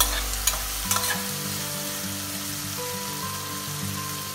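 Tomatoes sautéing in a pan for tomato dal, a steady close sizzle and frying hiss with a few spoon knocks near the start, continuous throughout and without speech.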